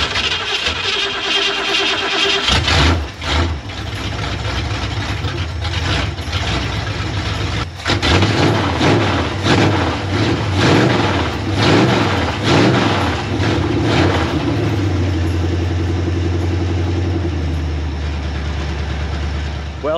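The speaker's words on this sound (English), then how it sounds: "Let's throw a little spark at it and see what she does," An engine fitted with a newly made carburetor cranks, then catches and runs loudly with a rough, pulsing rhythm, revving up and settling into a steady idle near the end.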